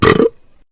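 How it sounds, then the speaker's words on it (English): A single loud, close burp lasts about a quarter second and then trails off into quiet. "Burping."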